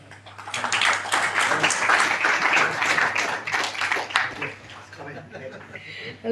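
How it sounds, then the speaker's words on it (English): Audience clapping for a prize winner at the official launch of an IRONMAN 70.3 race in Colombo, a swelling round of applause that builds then thins out, with an announcer's voice mixed in. "A round of applause."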